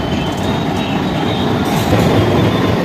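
Locomotive rolling in at Forbesganj to couple onto the Danapur–Jogbani Intercity Express, a loud steady rumble of rail wheels and carriage noise with faint squeal, heard close and continuous.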